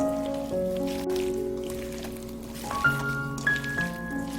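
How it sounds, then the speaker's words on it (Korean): Seasoned cucumber salad with onion and scallions is kneaded by hand in a bowl, soft wet squishing and squelching faintly beneath steady background music. "조물조물 잘 버무려주세요."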